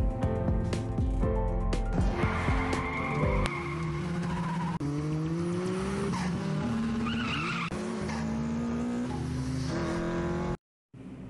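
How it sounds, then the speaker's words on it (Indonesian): Anime street race on Mount Akina: cars speed by with shrieking tire squeals, high revving engines and sliding skids, loud and continuous, ending in a brief sudden silence. "tiba-tiba muncullah Takumi dengan kecepatan tinggi sambil membawa tahu. Takeshi yang merasa tertantang pun langsung menambah kecepatannya sehingga balapan pun terjadi."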